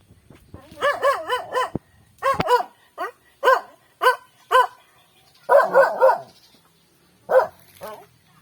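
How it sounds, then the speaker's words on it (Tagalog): A household dog at a home backyard barks in a series of loud, close, separate barks, some in quick pairs and others spaced apart with short quiet gaps between them, and no people talking. "Ang aming aso."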